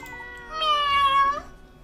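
A cat in the video game Layton's Mystery Journey gives a single clear, drawn-out meow, close and alone.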